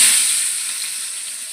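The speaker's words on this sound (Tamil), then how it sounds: "வெங்காயத்தை போட்டுக்கிறோங்க" Onions for biryani hit hot oil in a pan with a loud, bright, continuous sizzle that gradually settles, with no voices.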